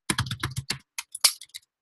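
Quick, close keystrokes on a computer keyboard in two brief bursts separated by a short pause, crisp and fairly loud with no voices.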